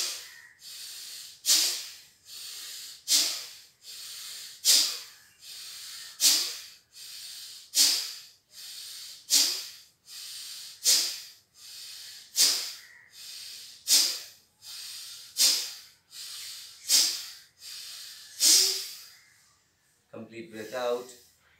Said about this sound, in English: Try to expand your lungs and forceful breathing out.